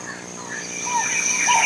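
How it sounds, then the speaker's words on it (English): Steady chirping of insects and birds in a dense forest, a continuous high trill with scattered calls rising slightly toward the end. "Listen to the birds."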